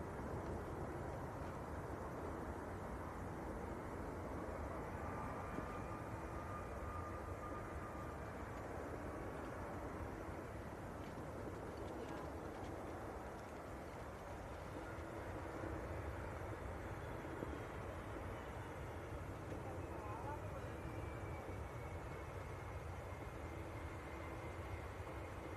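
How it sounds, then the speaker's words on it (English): A Jet2 Boeing 757, G-LSAJ, landing at Manchester Airport on its final passenger flight, arriving from Rome: a steady, distant jet roar that holds at an even level throughout, with a faint engine whine drifting beneath the broad wash of noise. "Alpha Juliet of Jet2, Boeing 757. This will be the last time we film this landing."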